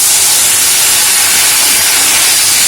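Water poured into a hot pan of chili powder and turmeric for a Bengali fish curry, giving a loud, steady steaming hiss and sizzle that fills the whole stretch without a break.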